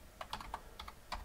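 A command is typed on a computer keyboard in a quick, uneven burst of about six key clicks, close and fairly quiet with nothing else heard.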